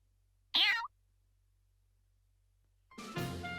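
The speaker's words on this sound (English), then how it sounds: "You're a good kitty, aren't you?" A cat meows in Fire Emblem Warriors: Three Hopes, one short, clear meow followed after a pause by a longer, more drawn-out second meow, both close and alone.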